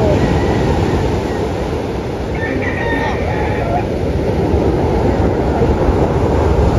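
Large storm-driven waves pounding a river-mouth shore where fishing boats are being hauled up, a continuous loud roar of surf and wind with no breaks.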